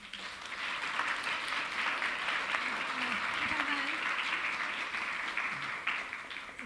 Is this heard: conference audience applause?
yes